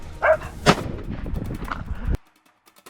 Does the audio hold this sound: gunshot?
yes